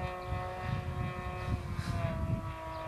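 A nitro-style RC model airplane engine idling at about quarter throttle, a steady buzzing drone with a sharp whine, close by and continuous with slight throttle wobbles.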